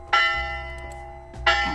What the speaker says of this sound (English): the bell in the center of the campus begins to ring